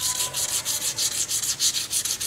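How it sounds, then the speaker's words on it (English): Aluminum is hand-sanded with 400 grit abrasive during strain gage surface preparation, a close, rhythmic scratchy rubbing of about a dozen even back-and-forth strokes with no voices. "Now, the 400 grit abrasive is gonna give us the correct surface finish that's recommended for aluminum."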